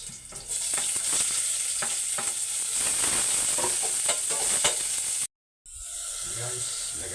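Chopped onion fries with garlic in a hot pan for a sardine stew, a dense, continuous sizzle with stirring scrapes close up, broken by a brief dropout near the end.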